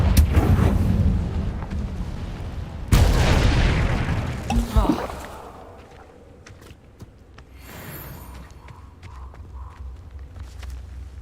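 Confringo explosive spell in Hogwarts Legacy: two heavy booming blasts a couple of seconds apart, the second sharper and followed by a fading rumble, then quieter footsteps and ambient game sounds.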